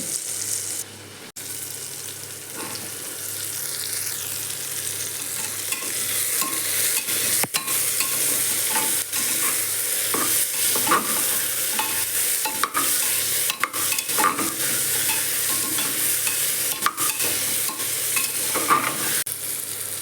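Ridge gourd with tomato and onion, village style, stir-fried in a pan: close, repeated scraping strokes of a spatula over a steady sizzle, loud and continuous, with no voices.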